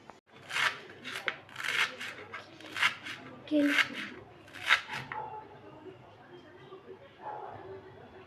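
A knife chops vegetables on a board in a home kitchen, about half a dozen crisp strokes spaced roughly a second apart, then quieter handling, with a voice talking over it.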